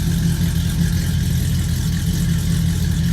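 A modified 1955 Chevrolet Bel Air engine idling smoothly and evenly, a loud, steady low rumble with no misfires and no voices over it.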